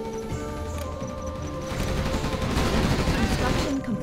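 Gunfire and crashing hits during a base attack in Generals Zero Hour (GEN EVO mod), growing denser and louder in the second half over steady game music and voice-like tones.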